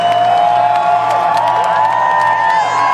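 A large crowd cheers and whoops at a live electronic music concert at Red Rocks amphitheatre. The roar is loud and continuous over sustained musical tones. No one speaks.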